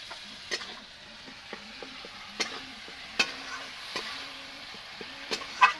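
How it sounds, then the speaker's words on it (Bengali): Chopped tomatoes with salt are stirred and fried in spice masala in a pan, making a quiet sizzle broken by repeated sharp spatula taps and scrapes against the metal at an uneven pace. "নাড়াচাড়া করে আমি টমাটোটাকে ভালোভাবে ভাজে নেব"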